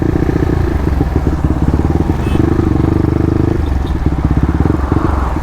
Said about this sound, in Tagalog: yung race bike na Aerox